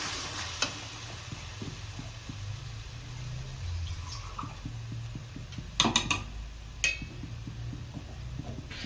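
Paneer butter masala gravy with a little added water being stirred in a pan: a soft, continuous simmering sizzle with repeated scraping strokes, plus a few brighter metallic clinks toward the end, close-up and without speech.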